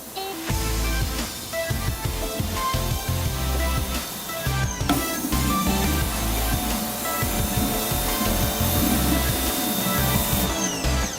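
An electric pressure washer drives a surface cleaner with swivel caster wheels across dirty ground, giving a loud, steady spraying hiss and motor whine that runs without a break, shifting briefly midway.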